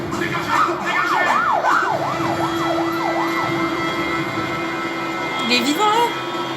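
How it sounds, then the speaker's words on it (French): A wailing ambulance siren in a film scene sweeps up and down in a steady rhythm, fairly close and sustained, with voices shouting over it and a rising electronic tone near the end. "Elle arrive, cette ambulance!"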